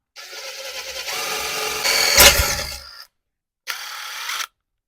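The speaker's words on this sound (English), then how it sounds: "these drill bits that I've got, they are bad" A power drill with worn, bouncing bits bores into metal on a 1989 Harley-Davidson Evo Softail project, whining and grinding for about three seconds, then stopping and giving a shorter second burst.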